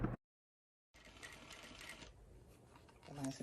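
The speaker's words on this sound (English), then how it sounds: "So I'm gonna sew at the very edge of the presser foot" A sewing machine stitches fabric along the edge of the presser foot for a headband, a quick whirring run of needle strokes after a brief silence, with a short burst of speech at the start.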